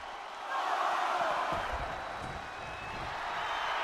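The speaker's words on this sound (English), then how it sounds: "And Cena is firing up the crowd here." Wrestling arena crowd in the WWE 2K24 video game, a steady distant roar of cheering that swells after the first half-second and holds, with faint thuds underneath.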